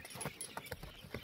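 Hooves of a purebred Kyrgyz horse at a horse market clop in a quick, light run of faint, uneven steps, with no talk over them.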